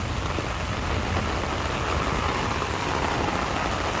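Heavy, steady rain pours down in Hong Kong in a dense, continuous hiss, close and loud throughout with no voices.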